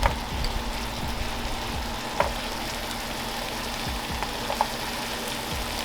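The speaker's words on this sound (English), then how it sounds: "We're going to now add our carrots and some onion." Steady sizzle of carrots and onions frying in a pan for sambusas, a continuous close crackle with a few soft stirring knocks and no talking.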